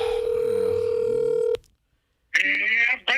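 A telephone line gives a steady tone that cuts off, then after a short silence a ringback tone sounds for a call on a live morning radio show, with voices and noise around it.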